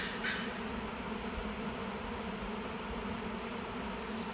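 Honeybees swarm out of a backyard hive that was opened the day before, a steady, faint, even buzzing drone with no voices over it.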